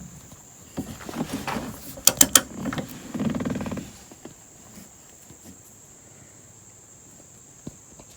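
A socket wrench works on the soft top bolts of a 1992 Miata, giving a brief cluster of sharp ratchet clicks and a creaking turn near the start, then quiet with small faint ticks.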